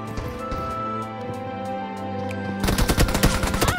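Gunfire in the battle royale game PUBG on the Sanhok map: scattered shots over game music, then a dense burst of rapid automatic fire, loud and close, with no talk.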